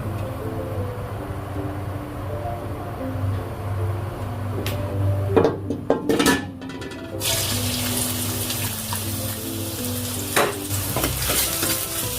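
Vegetables stir-fried in hot oil in a pan for jjamppong, a continuous close sizzle with scraping stirs and a burst of louder frying partway through, running water faintly behind, no voices.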